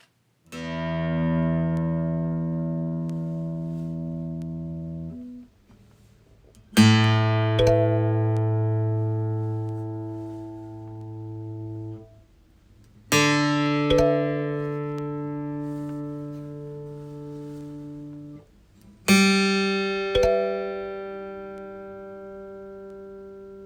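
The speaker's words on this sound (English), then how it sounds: "The tuner will make a sound to let you know you're in tune." Four separate sustained guitar notes ring out one after another with pauses between, each plucked sharply and decaying slowly; no talking.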